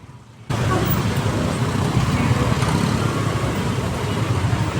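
Road traffic idling and creeping near a stoplight crossing, a steady low rumble of car and bus engines that starts abruptly after a brief quiet moment and continues close by.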